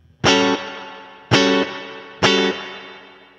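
Three loud distorted electric guitar chord stabs ring through an amp's spring reverb tank, each decaying into a long shimmering trail with slight chorus-like modulation, with no voice.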